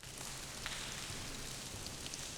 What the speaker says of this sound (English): or even just soft tapping on the knees